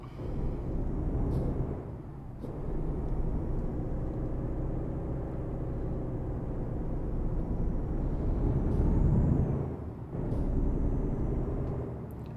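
A heavy truck in the Euro Truck Simulator 2 video game shifts into gear and pulls away, a steady loud engine rumble that swells and dips with gear changes, heard alone without talk.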